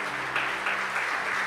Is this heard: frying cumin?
no